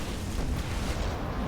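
Nuclear strikes hitting a base of cannons and batteries under construction in StarCraft 2, heard as a dense, sustained low rumble of explosions that fills the whole moment at moderate loudness.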